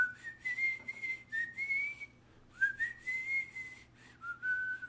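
A person whistles a short tune imitating Proto Man's signature whistle from Mega Man 3, two clear melodic phrases with sliding notes separated by a brief pause, close and solo against a quiet background.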